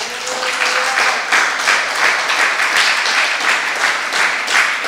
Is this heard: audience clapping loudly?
yes